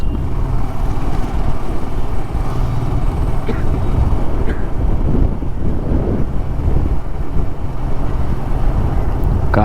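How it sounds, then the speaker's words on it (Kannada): Strong wind roars steadily and loudly across the microphone on a beach-side street at night near moored fishing boats, a constant buffeting rush with faint background noises. "ಗಾಳಿ ಬೇರೆ ಜೋರಾಗಿ ಬೀಸ್ತಾ ಇದೆ"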